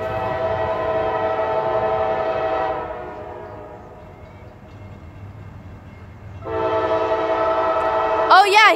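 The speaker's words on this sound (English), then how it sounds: "he's got a ton of locomotives on the front" CSX freight manifest train led by three locomotives including a pair of SD40-3s passing in Folkston, Georgia: a loud, sustained horn blast fades, then sounds again, over the rumble of the train, with a voice briefly at the end.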